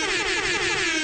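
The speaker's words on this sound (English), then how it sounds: "We'll give you an air horn for that." An air horn sound effect blasts during a sports podcast, one loud sustained brassy tone lasting about a second and filling the whole clip.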